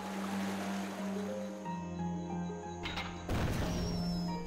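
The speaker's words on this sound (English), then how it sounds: "Fell into the water." In the video game Moonlight, a character falls into water: steady low tones give way to a sudden burst of splashing noise near the end, faint and brief.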